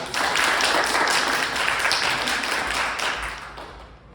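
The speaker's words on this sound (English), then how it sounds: "before these two begin their scene, big round of applause." Audience at a teen summer camp performance giving a round of applause, a full burst of clapping that holds for a few seconds and then tapers away.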